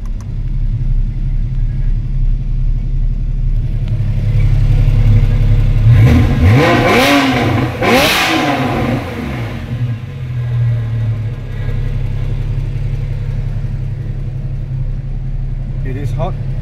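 A hot Porsche 991 Carrera S with the sport exhaust switched on idles loudly, then takes two sharp rising and falling rev blips close by before settling back to a deep, steady idle.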